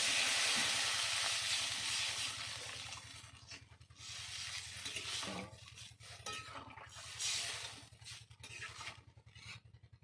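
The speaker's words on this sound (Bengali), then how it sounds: "এবার আমি দিয়ে দেবো পরিমাণ মতো জল" Water is poured into a hot pan of frying potatoes and spices for a thin pabda fish curry, turning a loud hiss into bursts of bubbling sizzle with a few utensil clinks, and no talking.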